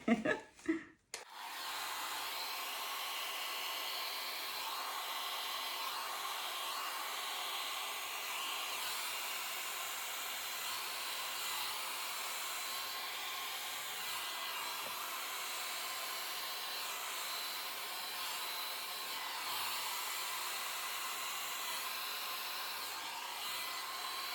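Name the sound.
hair dryer blowing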